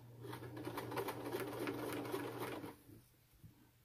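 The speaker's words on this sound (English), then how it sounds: "And so we'll just sew right on along." A sewing machine stitches cording onto a pillow cover, a fast steady whirring rattle for about three seconds, then stops, heard close and quiet.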